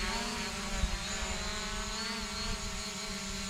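A Hubsan ZINO Pro drone flies over a hay field, its steady whining propeller hum droning continuously at a moderate distance under a soft wind rush.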